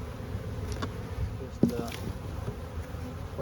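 Honey bees buzz at a hive on a hot day, a steady close swarm drone with a few louder passing bees and faint knocks.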